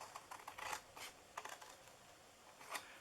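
Scissors cut paper for a Santa mini mailbox, giving a few quiet, irregular snips and rustles spaced apart with pauses between them.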